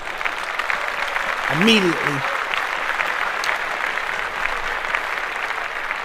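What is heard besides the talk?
audience applause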